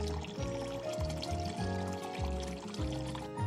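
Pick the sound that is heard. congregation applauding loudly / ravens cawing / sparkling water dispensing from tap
sparkling water dispensing from tap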